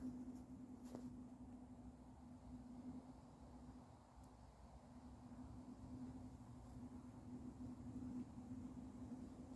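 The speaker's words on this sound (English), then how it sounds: "That's the sound of the A3 in the distance" Distant traffic on the A3 road, heard in the morning from a camp under beech trees on the South Downs Way: a faint, steady low rumble throughout, with no talking.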